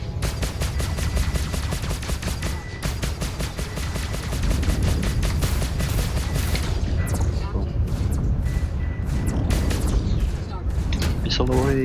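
Missiles launch during a Star Citizen Arena Commander space dogfight amid rapid, continuous cannon fire and thudding booms, loud and dense throughout, with a voice talking underneath.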